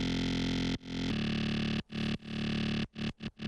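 Heavy FM wavetable synth bass holding a low E, a complex wavetable frequency-modulating the oscillator with pitch bend, loud and distorted, sustained in several long notes broken by short gaps, alone with no voice.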